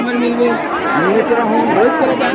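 A crowd crowds the slippery banks of Pendri Talab pond in Mungeli and fills the air with a continuous hubbub of mingled voices, close and fairly loud.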